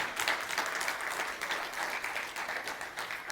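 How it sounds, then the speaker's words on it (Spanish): A church congregation applauding the Lord during a Spanish-language service, a steady wash of many hands clapping at a distance without a break, fairly quiet throughout. Nobody speaks. "se vas a aplaudir, aplaude al Señor"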